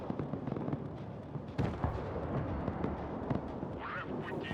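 Artillery fire from above in the video game Broken Arrow, a cluster of booming impacts and crackling blasts over a rumbling battlefield backdrop, with a sharp burst partway through and scattered smaller pops after.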